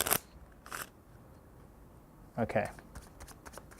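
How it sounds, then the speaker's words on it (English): Brief riffle bursts of a deck of playing cards being quickly shuffled during a card magic trick, two short flurries separated by a quiet gap, with a soft spoken word in between. "Quickly shuffle up the cards."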